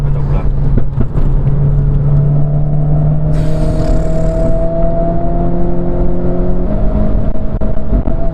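A Renault Clio RS Trophy with an Akrapovic exhaust drones loudly at close range, its engine note climbing steadily in pitch as it revs and pulls, a constant throaty roar throughout.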